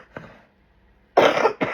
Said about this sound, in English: Sorry, I'm still got the crud coughing.